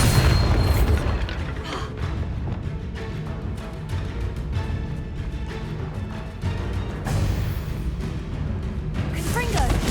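Bombarda spell explosions in the video game Hogwarts Legacy, deep booming bursts repeating through a dense, loud battle mix, with voices shouting over the din.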